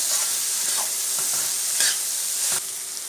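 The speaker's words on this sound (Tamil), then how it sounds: "இப்போ நம்ம வந்து கேப்சிகம்லாம் லைட்டாக வதக்கியாச்சு." Capsicum lightly sautéed in a hot pan for pasta, a loud close sizzle with a few quick spatula stirs and scrapes, no voices.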